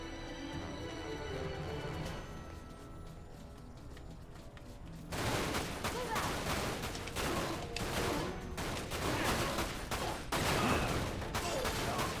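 Rapid gunfire in Final Fantasy VII: Dirge of Cerberus breaks out suddenly, with dense bursts of automatic shots and cracks following a quieter stretch of ambience.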